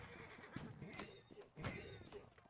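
A horse neighs twice amid Holdfast: Nations at War line-battle gameplay, its whinnies rising over a busy backdrop of game noise and distant voices.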